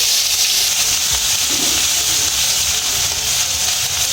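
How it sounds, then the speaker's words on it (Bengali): Onion paste frying in the oil left from frying fish, a steady hissing sizzle with faint scraping, close and constant. "পেঁয়াজটা একটু ভেজে নিচ্ছি।"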